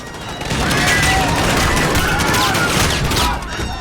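Sustained gunfire in Call of Duty Modern Warfare, loud dense automatic bursts and crashing impacts rolling continuously for several seconds before easing off.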